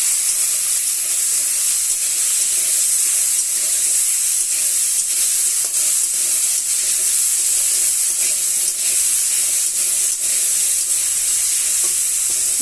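Vegetables sizzle steadily in a hot pan after turmeric and salt go in, with a constant bright frying hiss and soft stirring scrapes running evenly throughout, no talking.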